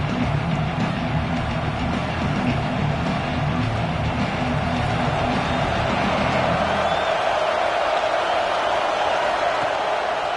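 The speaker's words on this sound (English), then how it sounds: "It's early, but this crowd is fired up. Listen to this noise here." A packed football stadium crowd at a Nebraska home game against Penn State roars loudly and steadily throughout, with a deeper rumbling layer that drops away after about seven seconds.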